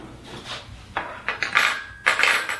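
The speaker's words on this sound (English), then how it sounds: "We're going to get a plate and a fork" A plate and fork are handled while serving mayonnaise cake, with several clinking, scraping knocks of metal on ceramic at an uneven pace, close and fairly loud.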